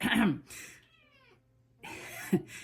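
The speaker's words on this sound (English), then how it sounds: "There's a kitty cat in the back." A single short cat meow rises faintly between stretches of nearby talking.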